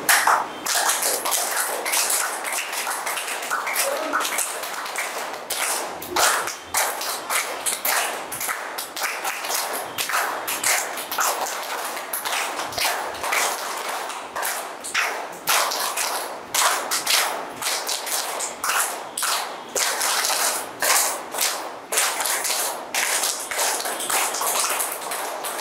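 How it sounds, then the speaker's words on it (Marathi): Loud, rapid hand clapping from a group at a yoga training camp, sharp claps repeating steadily and densely throughout, close and with no speech. "पहिल्यांदा जोरात टाळ्या वाजवायच्या"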